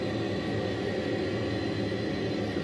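Airplane engine in a flight simulator flying into a strong headwind: a steady, loud, broadband engine drone and rushing air that stays constant throughout with no talk.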